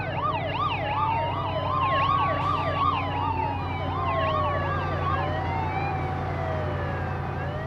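Several emergency vehicle sirens wail and yelp together as they arrive at a crowded shopping disaster scene, loud and continuous over a low traffic rumble, with no talk.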